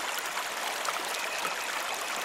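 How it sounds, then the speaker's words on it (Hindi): Steady rushing flow of a river, a dense, even wash of water sound heard close and fairly loud, alone without voices, as a sound effect in a children's story. "माया और अन्या एक चमकती जादुई नदी के पास पहुंचे।"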